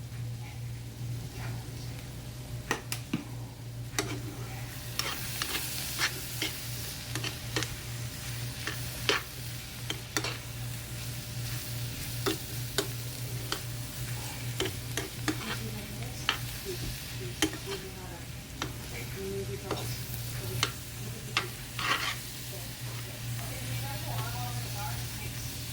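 Homemade seasoning is stirred into chili in a pan. A continuous close sizzle runs under frequent light scrapes and clicks of the spoon for the whole stretch.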